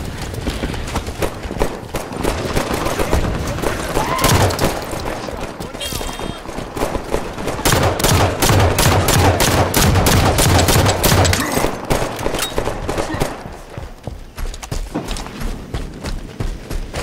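Sustained Halo 5 Warzone combat gunfire rattles in long rapid volleys, loud and near, mixed with battle noise and brief in-game voices over the top.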